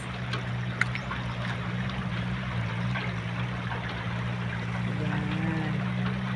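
A strong river current flows near a quarry in Mindanao after flooding, giving a steady broadband rush of water that runs without a break, with no voices over it.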